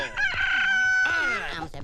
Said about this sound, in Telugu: కోడి కూసింది ఎక్కడ?